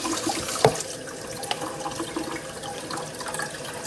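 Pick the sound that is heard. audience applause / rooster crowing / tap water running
tap water running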